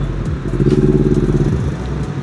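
A Kawasaki Z250 two-cylinder 250cc motorcycle fitted with a PDK racing silencer exhaust, with a loud, close engine note that swells in a throbbing pulse and then eases off.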